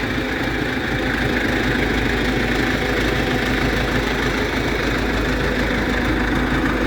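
A steady, loud excavator engine idles continuously with a low rumble and vibration while pumping air, unchanging throughout, no voices.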